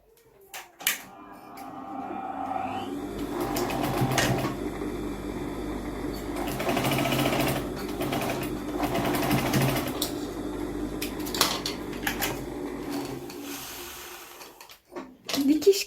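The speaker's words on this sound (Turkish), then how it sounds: "buradan düz bir dikiş geçeceğim" A sewing machine runs a straight seam along the folded side edge of a fabric face mask, a steady rapid stitching chatter in several bursts separated by short pauses, with someone speaking over part of it.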